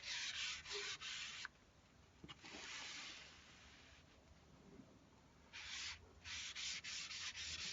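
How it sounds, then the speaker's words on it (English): Wet sandpaper rubs over a wood finish as slurry builds, close, steady scratchy strokes in bursts of quick back-and-forth passes, with no voice over them. "Now as you sand and the slurry builds, it will become stickier and stickier."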